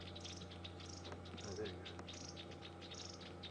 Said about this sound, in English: I can hear crombics. I can hear chinspot batters.